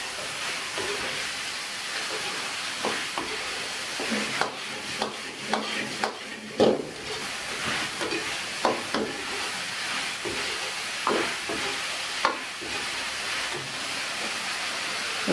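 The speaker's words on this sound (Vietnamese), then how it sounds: "Xanh ớt đỏ của mình xào gần chín tới rồi" Green and red peppers stir-fry in a hot pan for shaking beef, a steady broad hiss with scattered scraping clinks and stirring knocks, close and continuous.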